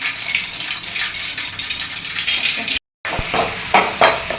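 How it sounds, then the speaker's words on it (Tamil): Ginger garlic paste, curry leaves, coriander, mint and green chillies sauté in a pan for Madurai chicken gravy, a close sizzle broken by scraping stirs and one brief silent gap. "இஞ்சி பூண்டு பேஸ்ட்டு, கருவேப்பிலை, மல்லி, புதினா, வேற என்ன பச்சை மிளகாய், பச்சை மிளகாய் போட்டு வதக்கியிருக்கோம்."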